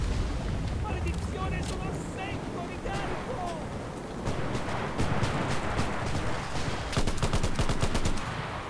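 Small arms firing at enemy aircraft in Enlisted, a World War II shooter, with bursts from a Mondragon rifle and a Lahti-Saloranta LMG. Rapid volleys crackle steadily over a dense battlefield din, growing into a sharper, denser burst toward the end.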